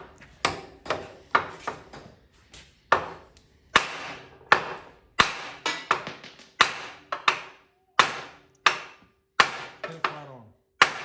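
Hammer striking a steel spindle part on a Jeep, about fifteen sharp, loud metallic whacks in irregular groups, each ringing briefly before the next blow.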